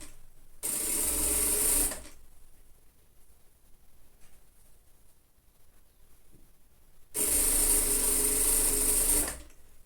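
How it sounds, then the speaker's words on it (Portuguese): A sewing machine stitches a lined children's coat from the bottom upward in two steady whirring runs of one to two seconds each, separated by a quiet pause, with no voices. "Aqui eu vou começar de baixo para cima a costura que fica melhor"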